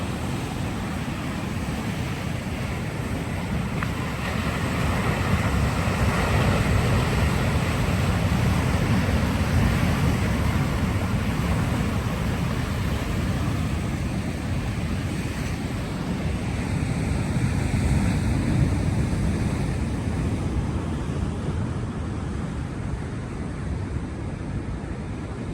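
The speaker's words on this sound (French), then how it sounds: "Avec les vagues comme ça là." Steady roar of ocean surf with wind buffeting the microphone, continuous and fairly loud without any voices.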